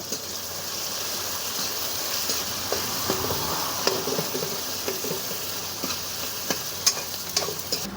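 Ginger, garlic, onion and tomato fry in a pan with a steady sizzle and occasional stirring clicks, close by, with no talking.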